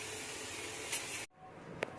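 Cooking spray hisses onto elongated hamburger patties in a kitchen, a steady close-up spray running for over a second before cutting off sharply, followed by a quieter tail.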